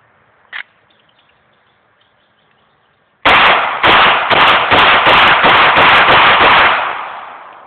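A Taurus PT92 pistol fired outdoors in a fast, continuous string of sharp, loud shots after a brief quiet stretch, the rapid reports blurring together before tailing off.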